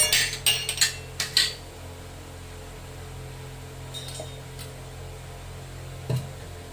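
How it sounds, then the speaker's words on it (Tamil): A metal tempering kadai set down on a kitchen stove for garlic kuzhambu, giving a quick run of clinks and clatters at the start, then a quiet hum with one more faint knock near the end. "தாளிக்கிற கடாயை வச்சுட்டேன்."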